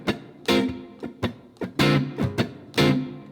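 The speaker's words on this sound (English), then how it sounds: "So with an upstroke" Bluesy electric guitar chords strummed with upstrokes and a slightly overdriven tone ring out in short, choppy hits, around eight stabs in a loose rhythm, played alone.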